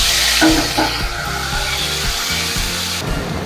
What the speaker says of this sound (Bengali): কেটে রাখা আলুগুলোকে দিয়ে দেবো